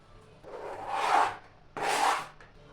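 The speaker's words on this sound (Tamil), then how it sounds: "இந்த மாதிரி ஸ்லைஸாக 2 பெரிய வெங்காயத்தையும் நம்ம வெட்டி எடுத்துக்கலாம்." A knife slices through two large onions for tomato rice, producing two separate rasping strokes, each about a second long, close and fairly loud with brief quiet between them.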